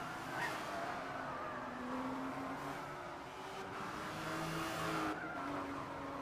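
A race car at full throttle in the Gran Turismo 6 video game, a steady loud engine drone with tire squeal and skidding running throughout, no voices.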